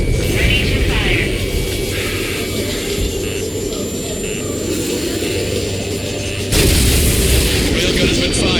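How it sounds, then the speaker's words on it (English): Railgun fire in Ace Combat 7: Skies Unknown, loud and sustained, a roaring jet-like blast that swells sharply near the end over a continuous engine drone, with voices talking underneath. "Railgun has been fired."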